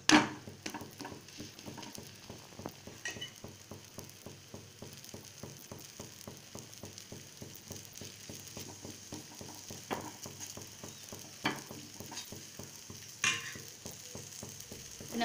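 A thick potato chapathi frying in plenty of oil on a pan, giving a quiet, steady sizzle with fine rapid crackles and a few louder pops heard close up, with no speech.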